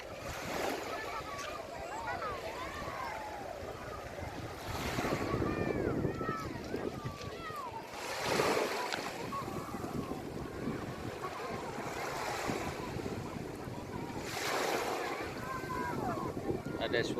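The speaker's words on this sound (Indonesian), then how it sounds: "Ada suara ombak kecil." Gentle small sea waves wash in repeatedly with soft surges amid wind noise at Pasir Putih beach, Krueng Raya, Aceh Besar, while voices and chatter carry faintly in the background.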